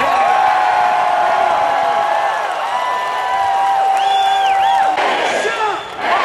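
A large political rally crowd cheers, whoops and applauds loudly and continuously, a dense roar of many voices with shouted calls rising above it.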